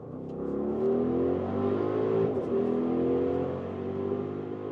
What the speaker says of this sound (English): listen to that sound, that sport exhaust is giving us a good vibe